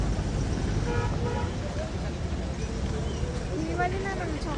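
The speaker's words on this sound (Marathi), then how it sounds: "ट्रॅफिक बघा किती लागते" Jammed road traffic in Mahabaleshwar, with a steady roadway rumble and short car horn toots breaking through near the end, while people talk over the noise nearby.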